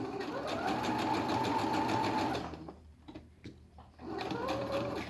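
A sewing machine stitches a zip pouch, running steadily for a couple of seconds, pausing briefly for a back-tack, then whirring again, close and alone.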